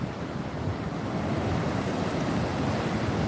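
Rough ocean waves surge at the beach, a loud, continuous roar of surf blended with gusting wind buffeting close by, with no voices.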